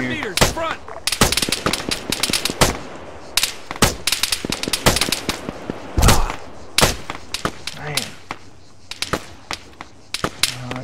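Gunfire in the combat game Arma 3: dense, loud volleys of sharp shots and rapid bursts cracking irregularly throughout, near and distant, with a voice calling out beneath the firing.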